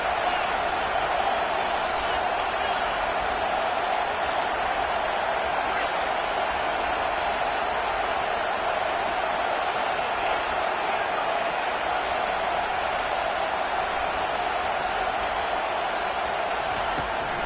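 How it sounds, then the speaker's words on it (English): A stadium crowd at a Hawaii at Clemson football game roars for the home defense on third down, a loud, dense and unbroken rumble lasting over seventeen seconds. "Decibels rising as the crowd gets behind this defense on 3rd down."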